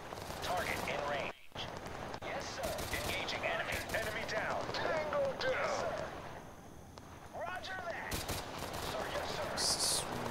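Sustained heavy gunfire rattles through a battle in the video game Total Conflict, dense bursts and volleys almost continuous with a brief gap, with voices talking over the fighting throughout.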